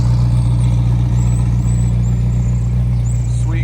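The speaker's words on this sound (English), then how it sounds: "It's got a Voodoo exhaust." A 2018 McLaren 720S fitted with a Voodoo exhaust, unobtainium downpipes, billet turbo inlets and custom intakes idles up close with a steady, loud, deep rumble that holds through the whole stretch; no one speaks.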